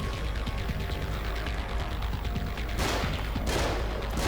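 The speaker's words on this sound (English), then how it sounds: "Now I've got plenty of time while Joseph is taking his shots." Gunfire from the horror video game The Evil Within, a dense, steady volley of shots over a loud, continuous game soundscape with a couple of brighter bursts near the end; no one talks.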